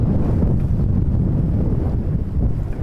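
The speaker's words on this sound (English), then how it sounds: "It's not that cold, but the wind is starting to bite." Strong wind at Vancouver airport roars across the microphone in a loud, continuous buffeting rush that swells and dips slightly but never lets up.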